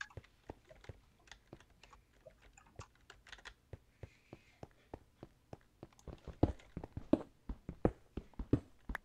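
Computer keyboard typing during a Minecraft-style game session: a steady run of crisp, separate key clicks, faint at first and growing louder and sharper toward the end, with no talking.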